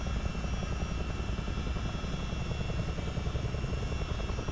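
A CH-47D Chinook tandem-rotor helicopter lifts off in Microsoft Flight Simulator with a loud, dense, continuous rotor thump and turbine roar throughout.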